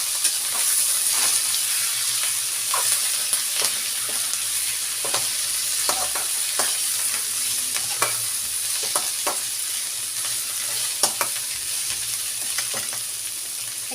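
Lai greens and potatoes are stir-fried together in a pan, the steady sizzle broken by repeated scraping and clacking strokes of a spatula at an uneven rhythm, close and alone without any talk.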